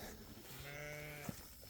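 A single sheep bleats clearly in a steady, drawn-out call outdoors in a pasture, fairly close and alone over faint background noise.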